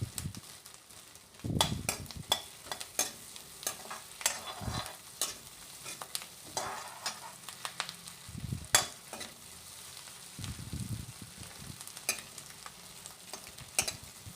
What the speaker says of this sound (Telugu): దీన్ని మనం బాగా ఫ్రై చేసుకోవాలి